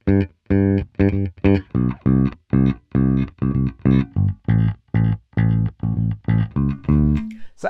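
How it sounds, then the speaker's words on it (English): A funk bass line played alone on bass guitar: a steady run of punchy, sustained notes in a syncopated rhythm with brief gaps between them, loud and close, with a slightly effected, gritty tone and no talk. "So in isolation, the bass line sounds like this."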